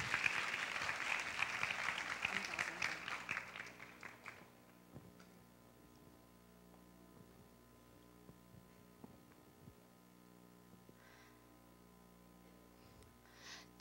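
Audience applause welcoming speakers at a university lecture event, dense clapping for about four seconds that dies away into a quiet room with a low electrical hum.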